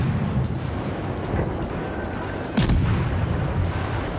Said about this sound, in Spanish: voy a girar un poco para dispararle con toda la banda derecha